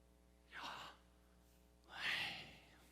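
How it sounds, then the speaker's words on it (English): A person draws in an audible breath, then gives a louder, longer exhale-like breath, two distinct breath sounds close to the microphone with no words spoken. "Yahweh, it starts with us breathing in."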